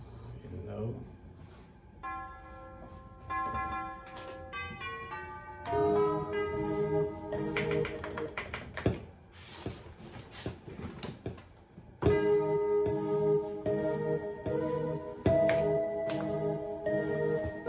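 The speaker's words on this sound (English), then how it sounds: "Put a little bell in here" Bright bell tones ring out in a repeating melodic pattern over a steady beat made on an MPC X, growing fuller as more layers join partway through.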